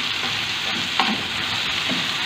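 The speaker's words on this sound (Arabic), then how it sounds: "ونقعدو نخلطو" Chicken seasoned with paprika, red pepper and salt being stirred in a frying pan, a steady sizzle with a few scraping strokes of the utensil, close and moderately loud, no talking.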